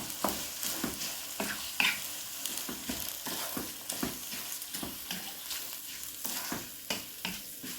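Basmati rice with spices is stirred in a hot pan, giving a soft sizzle with rhythmic scraping strokes roughly every half second and one sharper clink, with no voices.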